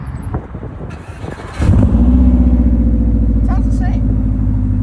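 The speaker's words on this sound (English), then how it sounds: "we're gonna get a nice first start with the new mufflers." A Subaru Legacy GT fitted with a new Invidia exhaust and mufflers starts up, and a deep, steady, loud exhaust rumble settles in. Before the start there is talk and rustling, and a voice speaks briefly over the idle.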